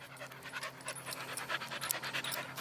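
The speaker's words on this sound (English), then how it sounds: "Tracy is the neighbor's dog." A three-legged neighbor's dog pants close by in quick, continuous rhythmic breaths throughout.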